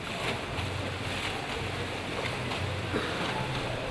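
Artificial waves churned by a barrel pumped up and down on a film set recreating a tsunami, heard as a continuous rushing wash of water with slow, low surging pulses, fairly close and steady.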